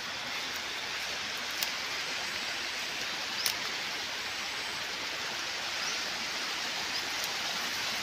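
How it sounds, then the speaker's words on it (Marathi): A flooded stream swollen by heavy rain rushes in a steady, dense roar of water, close and unbroken throughout, with no voices. "तुम्हाला आता भारी ओढा दिसेल सगळा कसा पाणी वाहते."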